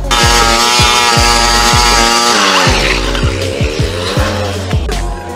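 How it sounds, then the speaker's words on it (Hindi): A motorcycle engine is revved hard by a rider sitting on it, a loud, close, continuous roar with repeated rising and falling pitch sweeps as the throttle is blipped again and again. "ये बाइक पर बैठकर फजूल में बाइक को रेस दे रहा है।"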